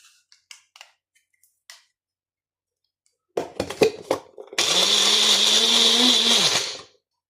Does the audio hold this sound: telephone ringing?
no